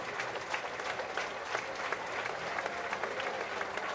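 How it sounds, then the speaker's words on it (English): Spectators at a European Truck Racing Championship round at Le Mans applaud a driver's burnout, sustained crowd clapping with a steady rhythm heard from a distance at moderate volume. "You can hear the massive round of applause as well that he gets from the crowd"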